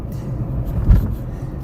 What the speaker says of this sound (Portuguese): eu vou tentar passar por ela aqui a 50 km por hora